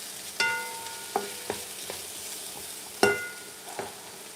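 Mushrooms fry in olive oil in a pan, with a soft steady sizzle broken by a series of sharp scraping stirs, two of them louder than the rest.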